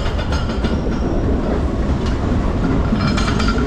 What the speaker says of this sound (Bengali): Howrah Dhanbad black diamond express যাচ্ছে প্ল্যাটফর্মে।